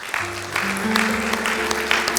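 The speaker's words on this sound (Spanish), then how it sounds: "Dale un aplauso de alabanza a Jesús." Applause from a church congregation fills the moment, a dense steady clatter of clapping over a low musical drone, moderately loud throughout.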